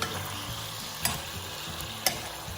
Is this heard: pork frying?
yes